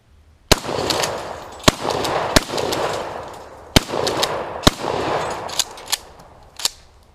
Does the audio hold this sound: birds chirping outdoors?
no